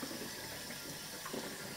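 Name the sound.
cold water running from tap to replace boiling water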